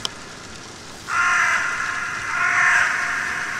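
Crows caw in the horror game Shutter, a harsh, loud cry that starts about a second in and swells again later, over a faint rain-like hiss.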